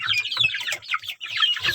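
Young free-range village chickens, about one and a half months old, in their coop: rapid overlapping clucks and chirpy calls from several birds nearby, continuous and fairly loud, with no talking.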